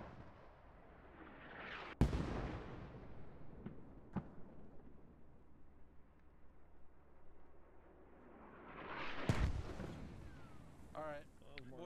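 Distant mortar rounds impacting in the military shooter Squad: two sharp, loud blasts around two and nine seconds with a couple of fainter thumps between, over a rumbling battlefield background.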